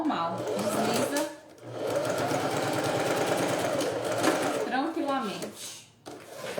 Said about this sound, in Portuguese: agora eu vou passar aqui em cima da emenda e ele costura também